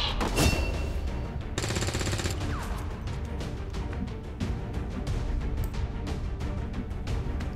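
Soldier firing aimed shots in the video game Guerrilla War, a run of sharp, close gunshot cracks at uneven intervals over a busy battle background, with one longer burst of noise early on.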